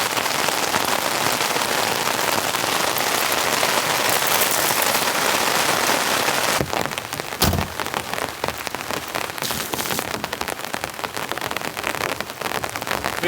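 Heavy rain pounds on a compact camper van in a rainstorm, a loud continuous roar of drops that shifts in texture midway, with a few sharper splashes standing out.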